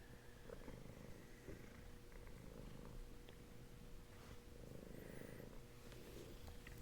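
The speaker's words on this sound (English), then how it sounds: "my cat that is obviously purring in my lap" A cat purrs softly in a person's lap, a faint, steady rumbling purr with gentle rhythmic pulses continuing throughout, no talking over it.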